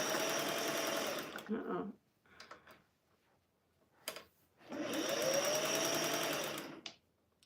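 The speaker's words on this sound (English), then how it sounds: "Oh, I'm sewing without thread." A home sewing machine, running without thread while making a flannel rag quilt, whirs in two steady bursts separated by a pause with faint ticking, and a brief voice speaks in the gap.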